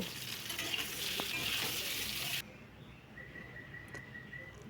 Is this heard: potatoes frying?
yes